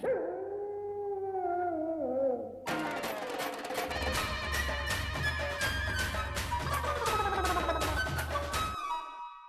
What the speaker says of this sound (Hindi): ऊपर से बोनस ये कि कुत्ता रो रहा है।